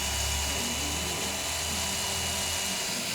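Power tool whirring during restoration work on a 289 Shelby Cobra in a garage, a steady high-pitched drone over a low hum, continuous and moderately close.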